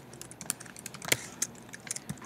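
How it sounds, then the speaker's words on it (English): Someone types HTML code on a computer keyboard: rapid, irregular key clicks close by, with a few louder strikes and no talking. "I will start by typing the HTML"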